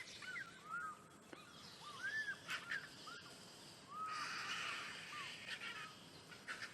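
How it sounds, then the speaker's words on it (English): African fish eagles give short ringing, yelping calls in repeated bursts from a distance, faint against a quiet outdoor background at sunrise on a safari drive. "you would have heard the African fish eagles calling as well"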